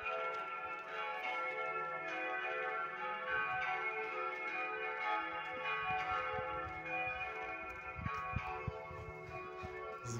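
Church bells ring out in Vranov nad Dyjí, a sustained, layered peal of rich overlapping tones with steady strikes, fairly loud and heard outdoors without talk.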